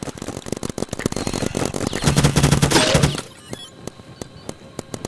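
Rapid bursts of gunfire from a Roblox paintball video game crackle continuously, peaking in a dense, loud volley before thinning to scattered shots, with no talking.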